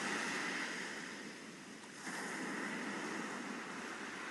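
Ocean waves wash continuously onto the shore in a broad, hissing roar with a gentle swell that dips and rises again. No voices are heard over the surf.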